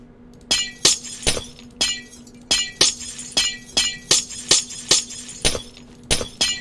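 Repeated glass-breaking-style smashes from block placement in Minecraft while building a lighthouse, about a dozen sharp crashes in a brisk uneven rhythm, close and loud over a low steady hum.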